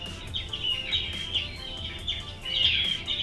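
Several birds call in a looping video game ambience, with a steady thin chorus of high chirps and trills repeating over a low rumbling bed, with no talking.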